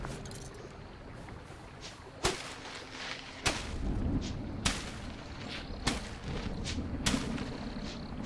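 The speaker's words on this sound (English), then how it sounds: "Oh, don't tell me it's another monster storm again." Sharp thunder cracks from a monster storm in Smalland: Survive The Wilds, about six loud strikes spaced a second or so apart over a constant rumbling wind-and-rain bed.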